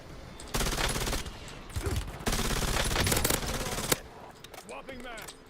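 Rapid automatic gunfire from a close air support strike in the shooter game The First Descendant erupts in two long sustained bursts, loud and dense, then trails off into scattered impacts and debris.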